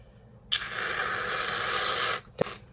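A single continuous hissing spray from a can of whipped cream lasts under two seconds, close and loud, followed by a brief tap.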